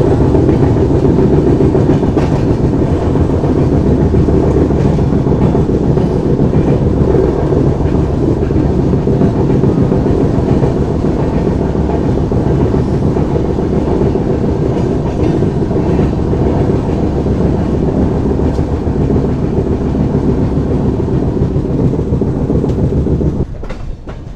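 The Mandovi Express runs on the Konkan Railway between Madgaon and Mumbai, heard from on board as a loud, continuous rumble with steady clickety-clack of wheels over rail joints, dropping away briefly at the very end.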